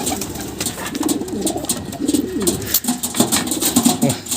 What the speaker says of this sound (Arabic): ذاك الحمام البني ده مش عايز بقية الحمام يروح لوالفته